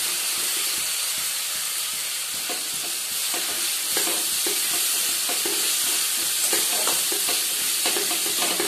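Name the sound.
onions frying in oil with garlic and spices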